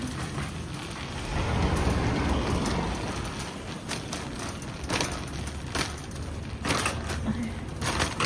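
Steady rain falls outdoors near a parking lot, a soft broadband patter with a few louder splashes and faint background rumble, no voices over it.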